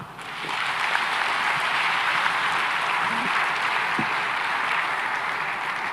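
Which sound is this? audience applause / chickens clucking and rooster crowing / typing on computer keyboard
audience applause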